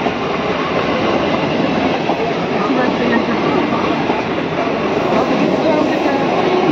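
A train rolls past near Lucknow with a loud, steady rumble and rattle of wheels on rails that fills the whole stretch, close and continuous.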